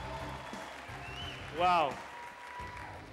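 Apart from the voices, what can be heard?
audience applause for the judges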